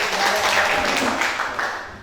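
A classroom of students clapping hands during a lesson, a brief burst of fairly close, even applause that tapers off at the end.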